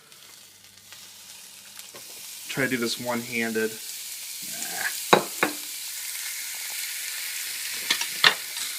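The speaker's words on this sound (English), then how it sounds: "And you can hear that wonderful sizzling sound." Salted and peppered chicken pieces frying in a hot electric skillet, a steady soft sizzle running underneath a voice, with a couple of sharper spits and pops from the pan.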